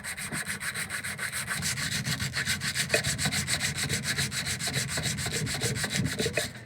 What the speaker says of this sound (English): I'm only going to be using my sanding block 220